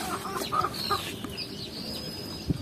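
A chicken clucks in short, scattered calls at moderate distance over a steady background hum, with no speech.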